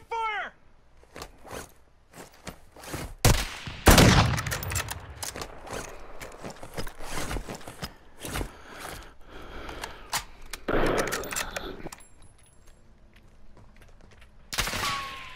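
Gunfire from a sniper rifle and other weapons in the Warzone 2.0 battle royale game, loud sharp cracks around four, eleven and fifteen seconds amid scattered shots, footsteps and gear rustle, with no talk.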